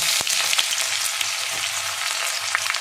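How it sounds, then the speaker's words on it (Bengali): Chopped onions hit hot oil already tempered with nigella seeds, producing a loud, dense, continuous sizzle with small pops and a little stirring, close up. "এবার আমি কুচিয়ে রাখা পেঁয়াজগুলো দিয়ে দেবো।"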